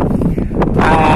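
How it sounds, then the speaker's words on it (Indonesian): Sea wind gusting across a coastal walkway at a marine conservation park, a loud close buffeting roar of wind against the microphone with a brief rustle, no voices. "ada angin pantai, angin laut lah yang menerpa kita"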